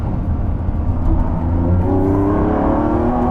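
A Lamborghini Revuelto V12 in maximum performance mode revs hard on a race track, a loud, close engine roar that climbs steadily in pitch as it accelerates, with no voices.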